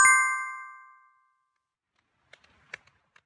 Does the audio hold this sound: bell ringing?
yes